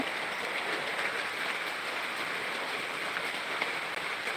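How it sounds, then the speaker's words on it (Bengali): Steady, dense rain pours down with a constant hiss throughout, no voices, like a heavy downpour during a storm. "আমাদের এখানে প্রচুর পরিমাণে ঝড় বৃষ্টি হচ্ছে"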